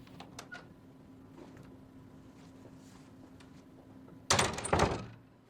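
After a long stretch of quiet room tone with a low hum, a door opens and shuts near the end as a man walks out of a room: one loud, brief, close burst.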